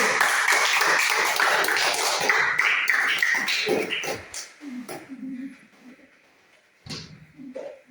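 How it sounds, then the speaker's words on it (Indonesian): A group of students applauds in a classroom, a dense patter of many hands clapping for about four seconds before it thins out into scattered faint sounds and brief talk. "berikan aplaus untuk kelompok 1"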